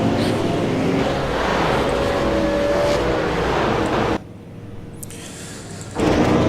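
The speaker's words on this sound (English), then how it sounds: "So we can see the burnouts have started" V8 Supercar race cars in a racing video game at Spa doing burnouts, a loud dense engine roar with tyre hiss that drops out abruptly for a couple of seconds before surging back, no talking.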